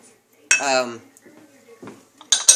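A metal utensil scrapes and clinks against a pan as seasoned chicken and rice are stirred, giving a few loud, close metallic strokes with quiet gaps between them.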